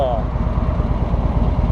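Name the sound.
Harley-Davidson Road King Milwaukee Eight 107 engine idling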